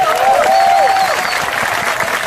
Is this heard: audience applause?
yes